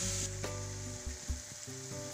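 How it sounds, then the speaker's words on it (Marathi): Boiled cauliflower sautéing in a pan, with a steady close sizzle and occasional scraping stirs, no voices. "हे चांगलं थोडंसं परतून घेऊया."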